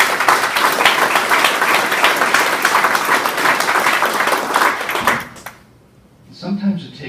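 A chapel dedication audience bursts into a full round of applause, dense and sustained for about five seconds before cutting off sharply, followed by a brief voice in the quiet.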